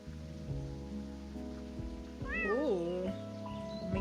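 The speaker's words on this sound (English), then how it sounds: "The sound of a meowing captures my attention." A cat meows in the rain within a video game, a clear rising-and-falling mew in the middle over a steady patter of rainfall and a low ambient music drone.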